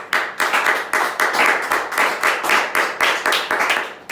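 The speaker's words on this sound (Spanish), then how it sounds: "Si lo va a aplaudir, apláudalo." A church congregation claps in a steady rhythmic beat, with sharp repeated hand claps of about two per second filling the room continuously and no talk.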